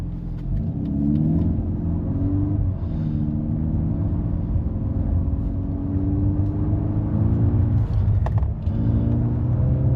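A VW Golf R 8.5 four-wheel-drive car engine hums and rumbles steadily at close range while driving on ice, with whirring drive noise and slight changes in pitch as it accelerates.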